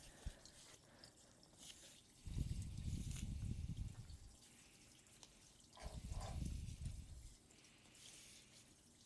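Tap water runs down a drain pipe in two separate low rushing bursts, close and hollow-sounding, with quiet dripping and trickling between them and no talking.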